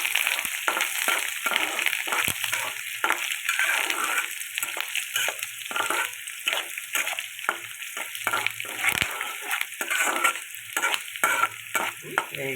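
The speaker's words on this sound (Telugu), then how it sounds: "కరివేపాకు వేసేసాను." Curry leaves, green chillies and onions crackling in a hot oil tempering for sago upma, a close, steady sizzle broken by repeated stirring scrapes and clatters, no one speaking.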